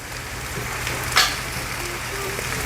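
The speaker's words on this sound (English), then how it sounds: "I'm gonna allow the rosemary to simmer in there as well" Rosemary simmers in plenty of pan liquid for creamy garlic rosemary chicken, making a soft, even bubbling hiss with one brief crackle partway through.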